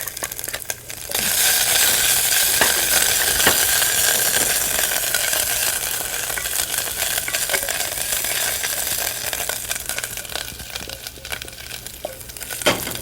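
Fresh ginger, chilies and urad dal sizzle and crackle in a hot pan for a South Indian rice dish, a steady close frying hiss with occasional stirring scrapes.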